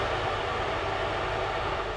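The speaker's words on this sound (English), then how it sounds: "So no apologies for the background noise at the minute, because the kettle is a necessary evil for the next step." An electric kettle heating water for a home-brewed blackberry and hops dessert wine gives a steady, loud broadband roar that runs unbroken, with no one talking.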